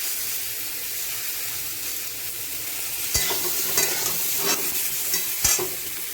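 Sour mango pieces sizzle in a pan as they are stirred, a steady hissing fry joined halfway through by repeated scraping strokes and a couple of sharp utensil knocks.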